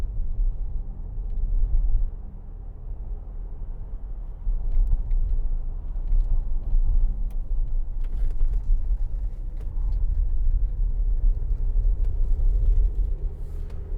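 A 2011 Land Rover Discovery 4 3.0 SD V6 drives along an uneven road, its cabin filled with a steady low rumble of engine and road noise that rises and falls gently, with no talk.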